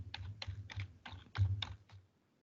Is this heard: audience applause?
no